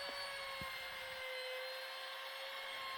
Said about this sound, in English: using my trim router just to soften up the edges on the 3 posts